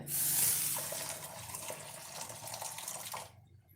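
Tap water runs into a cooking pot in a home kitchen, a faint, steady stream lasting about three seconds before cutting off.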